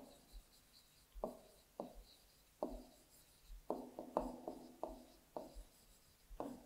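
Pen writing out the given values of a maths question, quiet scratchy strokes in short bursts with small pauses between them.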